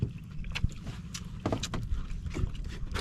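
Engine of a large boat running steadily in the background, a continuous low rumble mixed with wind and water noise, with occasional knocks and thumps.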